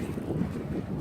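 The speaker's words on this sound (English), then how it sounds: "So it's pretty windy" Strong wind buffets the microphone in a brief, continuous low rumble while jogging outdoors in cold, windy weather.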